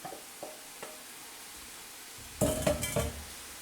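About two pounds of ground beef in a pan on a 1400-watt burner gives a faint sizzle with a few light taps, then a burst of louder scraping and clattering as it is stirred near the end.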